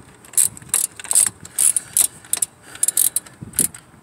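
A ratchet tightens the alternator bolt on a 2007 Acura TL, giving close, crisp bursts of rapid clicking separated by brief pauses.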